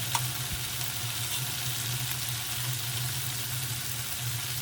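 Spice masala with salt and a splash of water being sautéed in a pan for a rupchanda curry: a steady, close hiss of sizzling runs throughout, with faint scraping stirs underneath.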